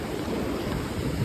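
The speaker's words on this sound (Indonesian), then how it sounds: "air lautnya itu memiliki ombak yang sangat tinggi" High waves at Gopit beach in South Malang on Java's south coast, a continuous broadband wash of surf with low rumble and wind noise, close and loud throughout.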